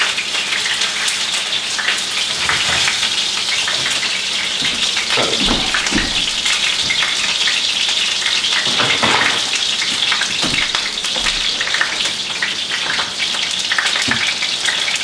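Halibut browning and sticking in a hot frying pan gives a steady, loud sizzle and crackle throughout, with scattered pops and spatters over the continuous hiss.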